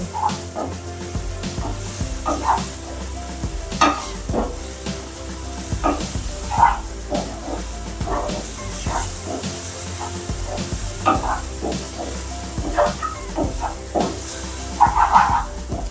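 Spices sizzling while being sautéed in oil for a brinjal and pigeon pea curry, a constant loud hiss close by, broken by regular clinks and scrapes of a spoon stirring in the pan.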